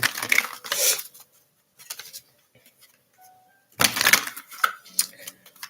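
Two bursts of riffling oracle card shuffles, crisp and close, separated by a quiet pause with faint small clicks.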